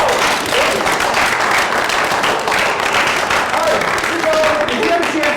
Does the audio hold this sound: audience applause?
yes